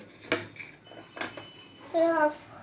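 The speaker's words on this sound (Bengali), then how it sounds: "টমেটো দেখো কুচিয়ে তাকে কত ছোট ছোট করছে" A child finely chopping tomato with a knife makes a few sharp, separate taps, and near the end a voice speaks briefly.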